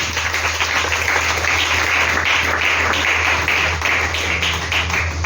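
A church congregation applauding during a sermon, a dense, steady wash of clapping from many hands filling the room without a break.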